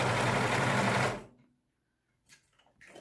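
A sewing machine backstitching fabric for a homemade face mask runs with a loud, fast, even whir for about a second, then stops abruptly, followed by quiet and a few faint handling clicks.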